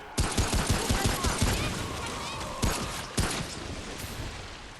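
Pistol gunfire in the co-op video game Remnant: From The Ashes: a quick volley of sharp, loud shots in uneven rhythm, then two more spaced cracks over a faint background din.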